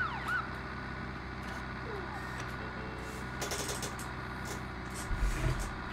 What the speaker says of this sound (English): That was a pretty cool siren, even though I didn't mean to